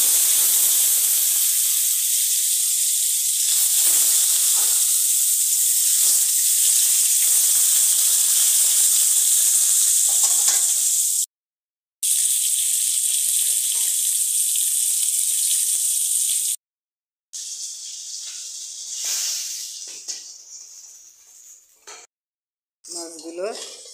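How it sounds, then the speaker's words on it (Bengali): Koi fish frying in hot oil, giving a loud, continuous close sizzle and hiss that breaks off twice into brief silence and then fades unevenly toward the end. "মাছগুলো এখন ভাজা হবে।"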